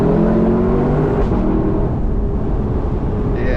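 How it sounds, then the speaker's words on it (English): Lexus LC 500 convertible V8 engine revving loudly up close, a steady sustained engine roar with rising harmonic tones early on and a brief higher burst near the end, suggesting rev-matched downshifts. "It does have rev matching on the downshifts. It sounds awesome as it does that."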